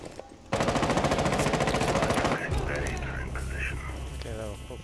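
Rapid automatic gunfire in Rainbow Six Siege during a Club House hostage match, a dense loud burst of shots for about two seconds, then quieter game ambience with faint muffled activity.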